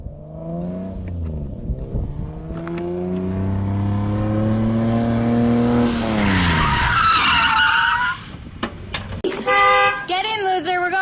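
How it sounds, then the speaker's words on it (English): A car fitted with a hydraulic e-brake drifting, engine revving through rising and falling pitch, then loud tire screeching and skidding, with more squeals near the end. "We going drifting."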